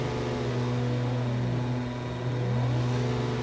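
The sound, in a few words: Formula Three race cars revving their engines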